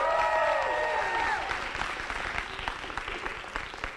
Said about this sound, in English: give a cheer